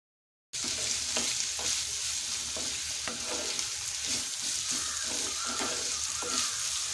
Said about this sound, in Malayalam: ഈ സവാള നല്ലപോലെ വാടി വരുന്നവരെ നമുക്കൊന്ന് വഴറ്റിയെടുക്കാം